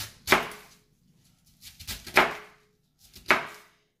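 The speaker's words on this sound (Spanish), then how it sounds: "Y la pico en trozos grandes, ¿ven?" Cabbage being chopped into large pieces with a knife, three separate firm, crunchy chops spaced about a second apart, close and fairly loud with quiet gaps between.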